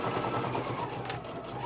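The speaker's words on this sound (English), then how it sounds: "I am going to sew back up the other side." A sewing machine runs steadily while stitching up the side of a Halloween-themed treat tote bag. The motor's even whir continues unbroken and close, with no talking.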